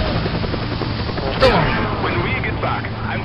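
A helicopter in the video game Resident Evil 5 drones steadily and loudly throughout, its rotor hum running under voices talking over it, with a brief sharp crack partway through.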